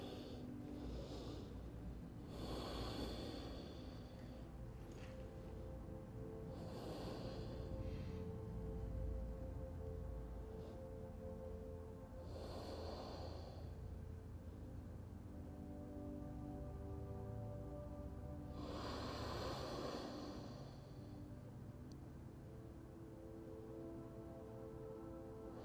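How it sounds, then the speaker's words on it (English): Slow, deep breaths during a vinyasa yoga flow, with several long audible inhales and exhales spaced a few seconds apart, close and soft against a faint steady background. "Try to breathe and relax with each exhale."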